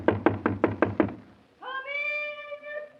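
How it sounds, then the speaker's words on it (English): Five firm knocks on a wooden door in a steady, even rhythm, close and clear, followed by a pause and then a drawn-out cat meow. "Knock on the door."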